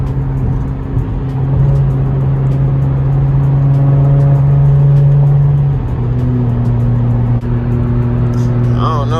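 A Jeep is driven late at night, heard from inside. A loud, steady engine drone rises and falls in pitch as it accelerates and shifts, with a brief drop near the end.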